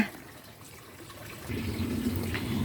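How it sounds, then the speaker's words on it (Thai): A garden waterfall gives a continuous rushing trickle of falling water outdoors, steady and moderately close, growing a little fuller partway through with no talking. "นี่ น้ำตกน้ำตก"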